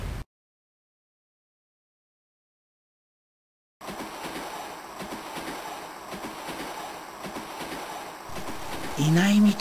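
A commuter train rolls along its rails with a steady rhythmic clatter and rumble after a stretch of silence, growing slightly louder toward the end.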